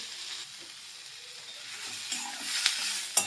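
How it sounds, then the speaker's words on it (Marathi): Cloves, cinnamon pieces and crushed ginger fry in a pan while being stirred: a soft, quiet sizzle that swells slightly, with a few light clicks of a spoon near the end. "यानंतर 3 ते 4 लवंगा आणि 3 ते 4 दालचिनीचे तुकडे यामध्ये टाकायचे."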